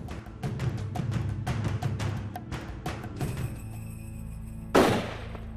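A single rifle shot is fired at a whitetail deer in South Texas brush. The sharp crack stands out loud after a stretch of rustling and clicking, then echoes back and fades.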